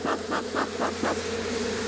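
Honeybees around a hive give a steady buzzing drone, with five swelling pulses of louder buzz in the first second before it settles into an even hum, close by with no talk.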